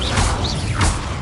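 A short burst of whooshing, crackling magic from the Incendio fire spell in the video game Hogwarts Legacy, with two sweeping swishes over a low rumble.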